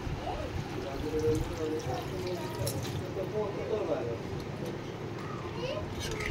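Water pours and trickles steadily into something, with faint children's voices and chatter in the background.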